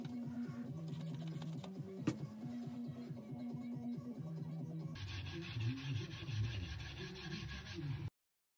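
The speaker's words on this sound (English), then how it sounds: "The next step is work with the surface with the sandpaper." Sandpaper worked over a carbon fiber skinned surface, a continuous rhythmic rubbing and scraping heard close and fairly quiet, with a brief tap partway through and a brighter, rougher rasp in the final stretch before it cuts off.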